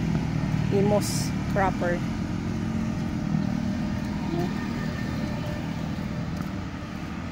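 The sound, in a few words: motorcycles and e-bikes passing on a road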